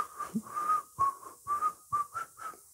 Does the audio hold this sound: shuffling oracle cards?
no